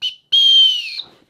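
Two shrill blasts from a small whistle built into a backpack strap buckle, a short chirp followed by a longer, louder piercing tone, loud and close.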